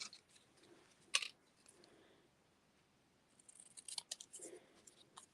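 Scissors trimming a paper card, heard as a sharp close snip followed later by a cluster of quieter cuts and rustles in an otherwise quiet room.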